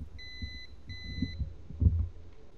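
Two electronic beeps from a multimeter continuity test on solder connections during a USB-C port install in a PS Vita 1000, each a steady tone lasting about half a second, close and clear over a quiet workbench background with faint handling noises.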